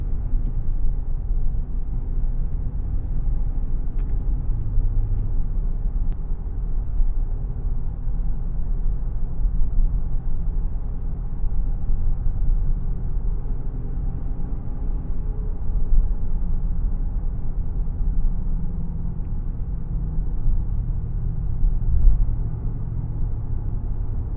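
Steady low road rumble and engine drone inside a 2024 Nissan Pathfinder Rock Creek SUV on the move, an even, continuous cabin hum with no talking.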